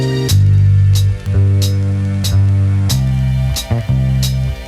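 A hip-hop beat is programmed on an Elektron Digitakt drum machine: steady deep bass and kick pattern with crisp hi-hat and snare hits repeating in a loop, loud and clear with no voices.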